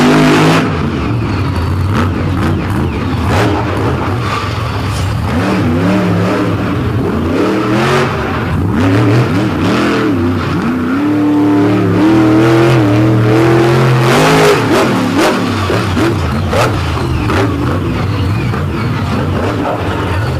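Racing trucks charge around a dirt track at an All Star championship round in Brooksville, engines roaring loud and continuous with repeated revving surges and pitch swings as drivers push hard without backing off.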